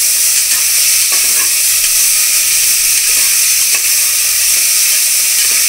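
Tomatoes fry in a pan with a loud, steady, dense sizzle and hiss, heard up close with faint stirring and no voices.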